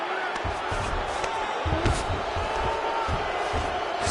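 A crowd at a UFC fight keeps up a steady roar with scattered thuds and bumps. The noise stays continuous rather than rising into sharp bursts of cheering.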